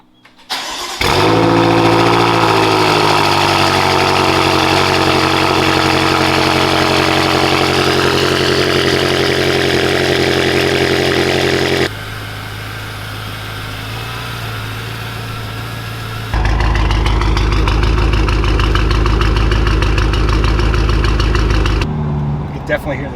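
A BMW M5 F10 engine with catless downpipes starts and idles with a deep, loud rumble, then settles lower before revving up again into a heavier, throaty drone with audible turbos.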